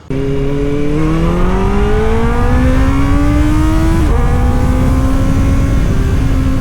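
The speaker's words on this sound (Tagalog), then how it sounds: "Sample lang yan guys kung gano'ng ka-screamer tong motor na to" A loud, close motorcycle engine revs hard, its pitch rising steadily into a high-pitched scream and briefly dropping before climbing again, with no speech.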